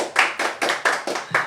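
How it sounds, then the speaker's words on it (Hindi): Six rhythmic, evenly spaced hand claps from a talk show audience applauding guest Sanjay Pandey, close and loud with a steady beat and no voices. "संजय जी के लिए बहुत जोरदार तालियां।"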